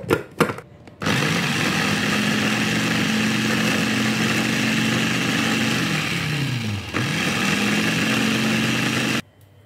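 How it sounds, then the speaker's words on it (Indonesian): An electric food chopper grinds boiled chilies in a steady whirring motor drone that starts after a short clatter, dips briefly midway as the blades slow and restart, then cuts off abruptly at the end. "Di sini saya haluskannya menggunakan chopper."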